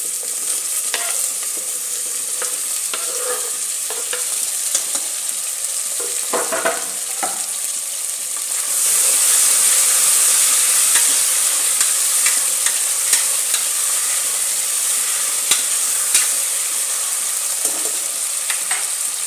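Potato pieces fry in hot oil with a close, continuous sizzle and scraping stirs, the hiss swelling louder partway through and staying bright to the end, no talking.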